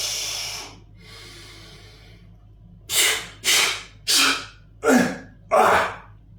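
Five forceful, sharp exhalations in a steady rhythm, each a loud breathy burst, follow a couple of softer breaths, as a person strains through the last reps of a biceps set at the gym.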